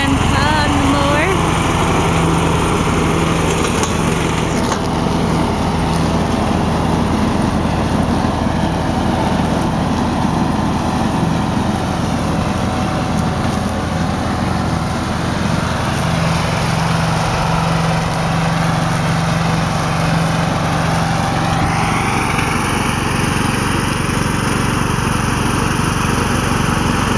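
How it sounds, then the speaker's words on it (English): A riding lawn mower carrying a child and his grandfather runs steadily in the country, its engine a constant loud drone with a high whine that shifts slightly as the machine moves past. "Here comes my son and his grandpa on the mower."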